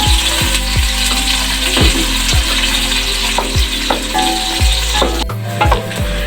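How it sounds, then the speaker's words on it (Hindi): Onions fry for chana pulao in a loudly sizzling pan. A spoon stirs and knocks in regular strokes about every half second, and the sizzle briefly cuts out near the end. No one talks. "प्याज आप देख सकते हैं हमारी अच्छे से ब्राउन हो रही है"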